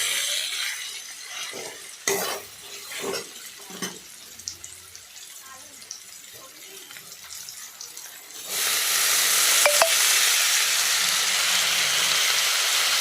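Drumstick flowers and fish roe curry stirred in a pan, with soft scraping and a few knocks of the spoon, then a loud, steady hissing rush takes over in the last seconds.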